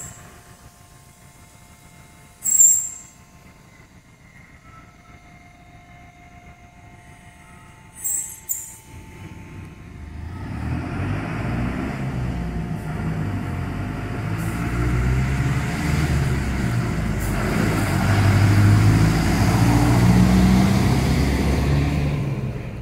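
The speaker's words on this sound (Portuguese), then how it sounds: "Ali é o ônibus escolar." A school bus rumbles closer and passes, its low engine noise swelling and lingering, after a quiet rural stretch with a couple of brief clanks.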